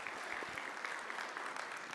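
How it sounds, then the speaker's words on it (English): A room full of people applauds steadily, a dense wash of clapping hands that holds at even loudness throughout. "Can we give Craig a round of applause for that storytelling"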